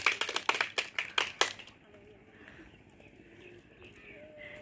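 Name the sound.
clapping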